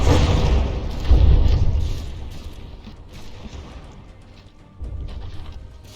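A battleship's rear gun booms in the From the Depths naval combat game, a loud low blast that rolls on into a long rumbling decay, with a second heavy thud near the end.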